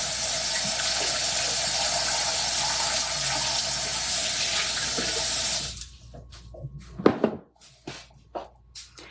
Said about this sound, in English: I'll rinse this out because we're gonna need this later.